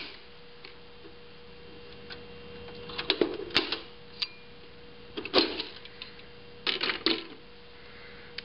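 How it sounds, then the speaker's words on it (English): Processor cards popped out of the chassis of an IBM SP/2 supercomputer, giving sharp plastic clicks and snaps in a few clustered bursts over a quiet background hum. "The processor cards pop out relatively easily."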